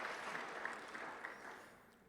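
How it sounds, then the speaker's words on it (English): Faint, distant hand clapping from an event audience, a soft continuous patter of many hands lasting about two seconds and tapering off. "One more hand clap."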